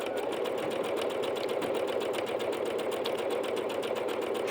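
A Bernette B-77 sewing machine stitches decorative stitch number 16, a steady, even run of rapid needle clatter with a regular pulse held at moderate level throughout.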